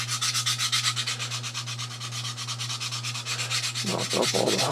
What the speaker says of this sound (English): just going to give this a little bit of sanding back here.